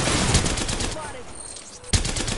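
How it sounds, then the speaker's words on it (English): Video game gunfire comes in rapid automatic bursts, loud and close, with a brief lull in the middle before a sharp burst resumes. "Putting lead down range."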